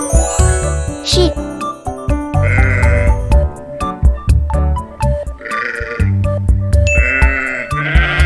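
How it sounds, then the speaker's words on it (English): Loud, repeated sheep bleats ring out over a bouncy children's music backing with jingles, arriving as several separate wavering cries across the stretch. "This is sheep."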